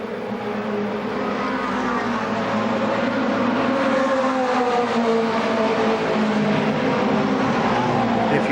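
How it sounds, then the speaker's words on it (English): ARCA Pro 4 stock cars racing at Winchester Speedway, a continuous dense roar of several engines blending together at a steady loud level, with no talking. "Sometimes called the Screamin' Fours, the ARCA Pro 4s always put on an excellent show."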